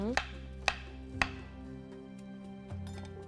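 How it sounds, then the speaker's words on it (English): A knife roughly cuts bananas on a board in a kitchen cookery segment: three sharp, close chops about half a second apart, followed by a softer knock, with faint tonal music underneath. "Just roughly cut the bananas."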